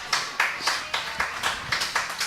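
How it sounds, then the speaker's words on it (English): Rhythmic clapping at a women's singles bowls championship, about nine distinct claps at an even pace, fairly near and sharp, with no one talking over it. "there's been a big applause coming from the stands near us"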